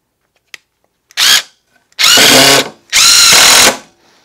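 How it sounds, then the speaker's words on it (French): An impact driver drives a screw into wood in three short, loud bursts, the first briefer and the next two lasting close to a second each, with small clicks between them and silence around. "la vis, elle est rentrée très vite dans le bois"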